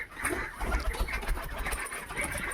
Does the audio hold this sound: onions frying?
no